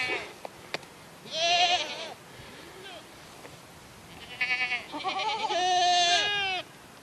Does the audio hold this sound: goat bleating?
yes